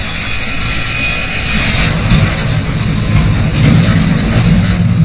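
An aircraft passes overhead with landing gear, flaps and slats out, a loud, broad roaring rush that holds steady and swells slightly across the clip.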